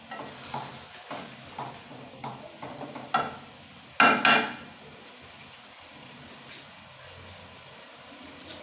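Mixed vegetables with peas and carrots being roasted in ghee in a pan, with a soft steady sizzle under a series of scraping stirs and a couple of louder clanks from a spoon against the pan.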